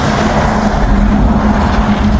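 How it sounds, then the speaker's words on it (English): A big Arnell Carriers truck rolls past close by, its loud broadband engine and tyre roar steady and unbroken throughout, with no voices. "Got a big old Arnell Carriers truck coming"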